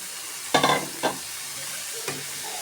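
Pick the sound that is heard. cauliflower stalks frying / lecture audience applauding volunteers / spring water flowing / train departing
cauliflower stalks frying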